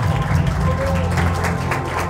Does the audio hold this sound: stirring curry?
no